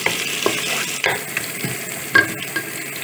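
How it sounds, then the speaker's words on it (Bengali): Chopped onions sizzle in oil in a pan for Kashmiri pulao, with a few sharp scraping stir strokes over a steady close frying hiss. "এখানে আমরা 3 টেবিল চামচ পরিমাণ পেঁয়াজ কুচি দিয়ে দিলাম, দিয়ে এটাকে আমরা একটু নাড়া দিচ্ছি।"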